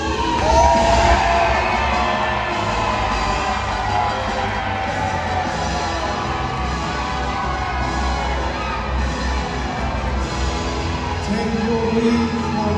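A large arena audience at a Medieval Times show cheers and shouts together, a loud sustained roar with whoops rising and falling throughout.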